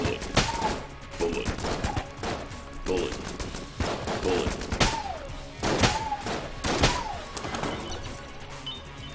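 Gunfire in the video game Enter the Gungeon comes as repeated quick shot bursts with rising chirpy tones between them, moderately loud and irregularly spaced, with faint voices in the background at times.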